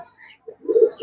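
A Chennai racing pigeon with a club tag on its leg gives a few soft, low coos, ending in a fuller throaty burst, with faint chirps above, close by and alone.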